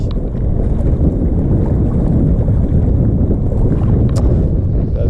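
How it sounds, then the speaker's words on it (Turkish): Strong wind roars continuously against the microphone at a pond, a dense low rumble with faint splashing water beneath it. "rüzgar fazlalaştı"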